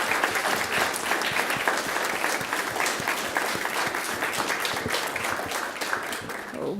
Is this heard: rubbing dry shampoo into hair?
no